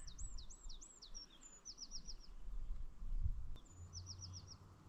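High, rapid skylark song with trilling, repeated phrases, faint and distant over low wind rumble outdoors at a wild camp.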